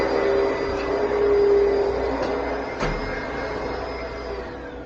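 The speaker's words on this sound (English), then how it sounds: "There's a vacuum cleaner going on." A vacuum cleaner drones continuously in a room, a broad steady whine with a faint tonal hum that fades slightly toward the end, with a couple of brief clicks along the way.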